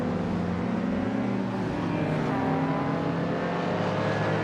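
A classic 1964 Porsche 356C races in a video game, its engine giving a steady, loud, continuous drone that shifts slightly in pitch partway through, with no talk over it.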